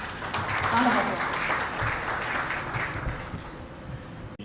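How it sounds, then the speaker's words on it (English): Audience applause for the Czech ambassador to Nigeria at a formal event, a sustained roomful of clapping at even strength that tapers slightly before cutting off. "Round of applause."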